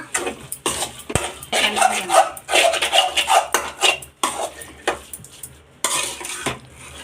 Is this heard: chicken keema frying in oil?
yes